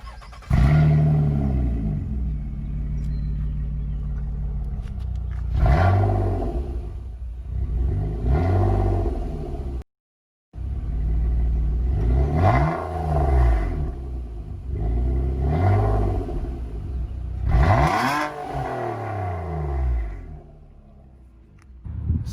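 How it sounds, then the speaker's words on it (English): A 2018 Nissan Maxima with a resonator delete revving repeatedly, each rise and fall of engine pitch sweeping up and down, loud and close, with a brief cut to silence midway before more revs. "we'll play you a clip of the exhaust right now"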